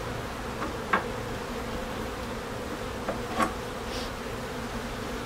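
Honey bees hum steadily around an opened hive as it is split, a low continuous drone with a few brief louder buzzes as insects pass close.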